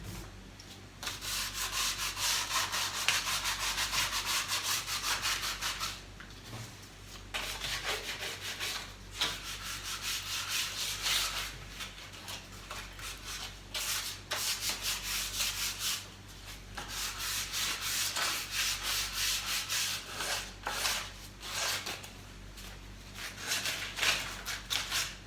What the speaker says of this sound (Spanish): No soy muy buena con la lija